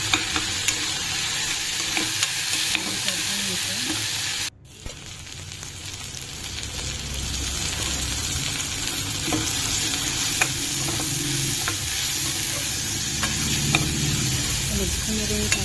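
Moth beans seasoned with red chili powder, turmeric and salt sizzle steadily in a pan while a spoon stirs and scrapes through them, with a brief dropout midway before the frying noise resumes, loud and continuous.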